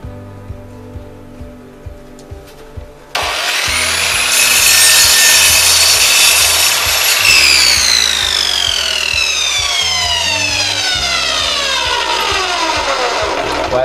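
An Einhell TC-SM 2531 miter saw spins up suddenly after a few clicks, then cuts through melamine board with a loud, sustained whine. The blade pitch shifts partway through before the motor winds down slowly.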